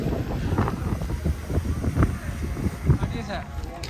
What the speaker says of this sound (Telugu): విండ్ ఉంది చాలా విండి